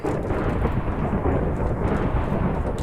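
Thick, continuous rain pours down in a Minecraft FTB modpack thunderstorm, with a constant deep rumble of thunder beneath the close, even downpour.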